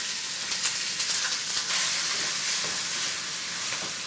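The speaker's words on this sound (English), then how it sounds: "we add the meat in first to let it brown" Beef browning in hot oil in a pan for lo mein gives a steady, bright sizzle and hiss, close and continuous, with a few sharper crackles and spatters and no talking.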